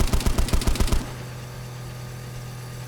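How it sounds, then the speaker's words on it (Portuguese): Rapid automatic gunfire in the video game DayZ, a tight burst of about a dozen loud shots in the first second, then a low steady hum with no voices. "eu tô tomando tiro"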